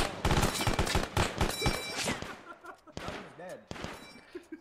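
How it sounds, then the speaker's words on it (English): Rapid bursts of automatic gunfire in Arma 3 pour continuously at an enemy vehicle on a road, loud and dense for about two seconds before thinning into scattered distant shots, with voices talking between them. "I want continuous fire!"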